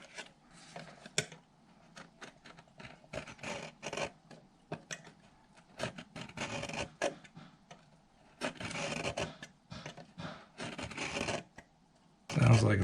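A blade scrapes and rasps against the wood of a Koa ukulele during crack repair, coming in short irregular strokes, then longer sustained scraping passes, fairly quiet and close.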